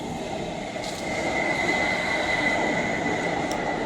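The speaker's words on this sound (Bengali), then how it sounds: "আর এই যে মেট্রো যাচ্ছে" A metro train passes by, heard as a steady, moderately loud rumble of wheels on track that swells slightly and then holds without a break.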